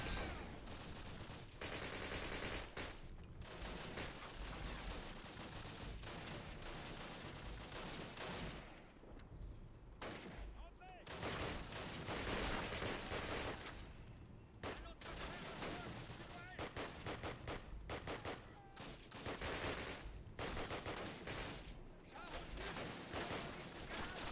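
Call of Duty (2003) gunfire in a British campaign battle near Bénouville: repeated loud bursts of rifle and machine-gun shots crackle in irregular clusters, close and harsh, with brief lulls between volleys.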